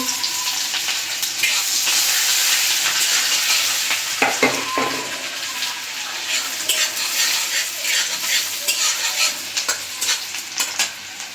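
Chopped garlic and onion sizzle loudly in hot oil as they are stirred, a bright continuous frying hiss with brief spatula scrapes and clatters, close and steady with no voices.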